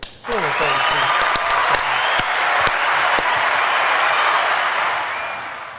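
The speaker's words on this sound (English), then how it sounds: "cue the hand clapping music for that" Hand-clapping applause as a sound effect: a dense, steady wash of many hands clapping, with a few sharper individual claps standing out, sustained for several seconds before tapering slightly at the end.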